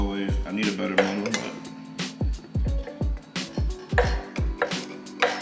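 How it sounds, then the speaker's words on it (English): Muddling a cocktail in a glass, with repeated clinking and knocking strikes against the glass in an irregular rhythm, close and fairly loud, while a person speaks briefly. "trying to muddle this in this glass is not easy"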